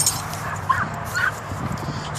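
A dog whimpers and gives a few thin yips near a broken gate latch, the sounds soft and intermittent against steady background noise, with no speech.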